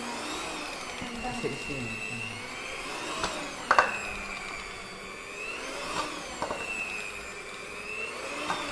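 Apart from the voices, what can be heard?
cheap electric hand mixer running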